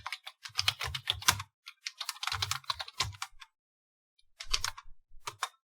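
Typing on a computer keyboard in a typing tutor program, quick bursts of close key clicks with a low thump on each press, broken by short pauses and a silent gap near the end.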